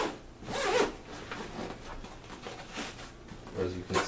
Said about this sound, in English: It's got a nice heavy duty zipper on it.